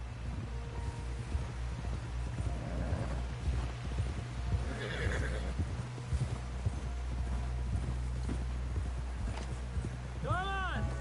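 A horse in the Red Dead Redemption 2 video game keeps up steady hoofbeats throughout, then gives a loud, close whinny near the end, with voices talking over the ride.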